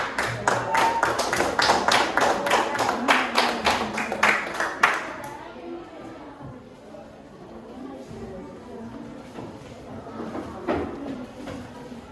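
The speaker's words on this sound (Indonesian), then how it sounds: "Tepuk tangan untuk kelompok 5." A classroom audience claps for a presenting student group, a burst of brisk overlapping hand claps for about five seconds that then fades into quieter room chatter and movement.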